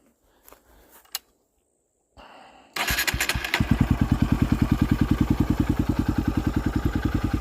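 A Honda XR150L motorcycle fitted with an RBX exhaust and silencer is started after some clicks and cranking, then settles into an even, close idle with a regular, muffled thumping beat.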